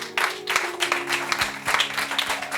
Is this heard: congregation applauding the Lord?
yes